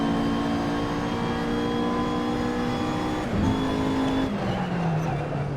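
Race car engine in the Assetto Corsa sim on the Nürburgring GP track, chasing an identical car: a loud, steady high-revving whine that drops in pitch through two gear or speed changes, with slight tire noise.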